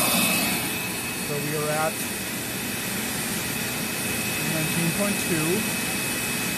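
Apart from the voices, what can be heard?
Dirt Devil Ultra vacuum cleaner motor running, brush off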